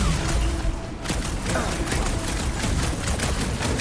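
Rapid bursts of gunfire in the video game Marvel's Guardians of the Galaxy, loud and continuous, layered with game action noise and a voice heard briefly.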